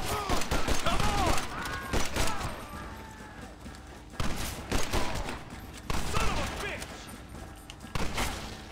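Gunfire from a Red Dead Redemption shootout: repeated volleys of loud shots and rapid fusillades come in several bursts, with shouting voices mixed into the fight.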